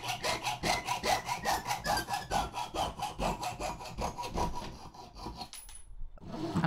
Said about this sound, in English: Cutting out its first face.